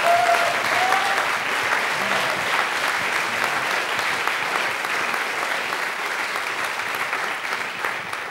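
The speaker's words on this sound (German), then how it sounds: "Dann ihr Applaus für Elisabeth Mettke" A science slam audience gives loud, continuous, even applause that fills the whole stretch, dense clapping from a large crowd with no pause.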